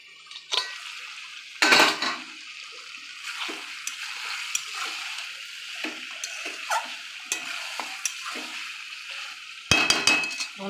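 A pot of peas and meat curry being covered with its lid, heard as scattered close metallic clinks and knocks over a faint sizzle, with a louder clatter near the start and another at the end.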